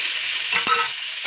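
Tomato dropped into a frying pan after curry leaves, giving a close, loud bright sizzle with a short burst of stirring partway through, no voices.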